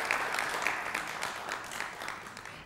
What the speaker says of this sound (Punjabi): ਤੁਹਾਡੀਆਂ ਭਰਪੂਰ ਤਾਲੀਆਂ 'ਚ ਇਸਤਕਬਾਲ ਕਰੋ